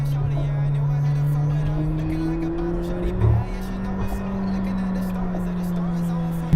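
McLaren 720S sports car in sport mode with automatic gearshifts, its engine droning and rising in pitch as it accelerates, then briefly dipping at a shift before climbing again, heard from inside the cabin.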